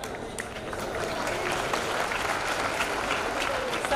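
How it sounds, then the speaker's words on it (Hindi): Children at a Bihar school arts festival applaud continuously, a dense, steady patter of many small hands that is heard through a hall's ambience with a voice faintly underneath. "सभी प्रमंडल के बच्चे कृपया आप ताली बजाते रहे लगातार।"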